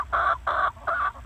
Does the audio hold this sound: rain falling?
no